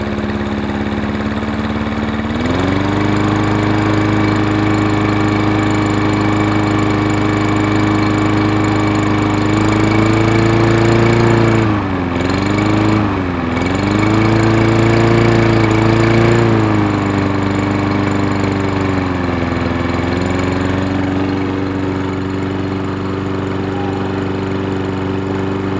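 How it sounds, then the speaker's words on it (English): Toro Recycler 22-inch lawn mower running after its camshaft was retimed, a loud steady engine drone that rises briefly in a rev midway before settling back to a constant run. "rev it up and try to"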